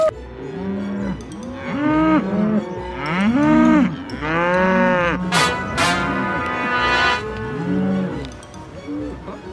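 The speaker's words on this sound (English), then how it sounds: "Yeah, there's cows on the road." Several cows moo loudly and repeatedly, their long drawn-out calls overlapping close by, with no talking.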